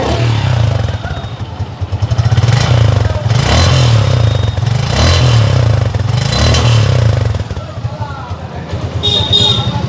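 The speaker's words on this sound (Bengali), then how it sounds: "এবার আপনাদেরকে গাড়ির ইঞ্জিনের সাউন্ডটা শোনানোর চেষ্টা করব" A used Suzuki Gixxer Monotone motorcycle engine runs loud and close, idling with a steady thrum and a few rising revs, with mechanical clatter between.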